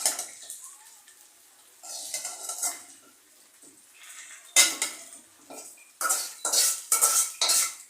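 Jute greens go into a kadai for a stir fry, heard as metallic clinks and scrapes of a utensil against the pan in short bursts, close and fairly loud, with quiet gaps between and no talking.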